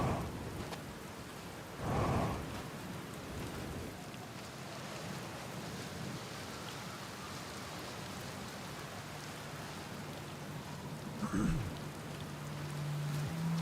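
Steady rain pours in the video game Outer Wilds, a dense, even hiss throughout with a muffled rumble of thunder early on and another brief thump later, no voices.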